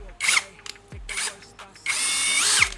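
A 16 volt cordless drill whirs in short bursts, tested running in reverse, then runs longer and spins down; the motor is close and loud, with no talk.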